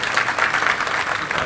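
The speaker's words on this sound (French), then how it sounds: "applaudissez pour vous-même" Audience applause at a French-language talk event, a steady dense wash of clapping from a crowd that holds at an even level for the whole moment without breaks.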